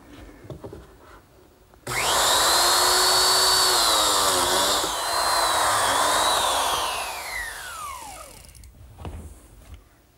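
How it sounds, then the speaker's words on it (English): Biscuit joiner cutting slots into the lower rail of a Shaker tall chest, a sudden loud motor whine rising and falling as the blade plunges, then spinning down to quiet. "cut some biscuit slots in the bottom of this lower rail"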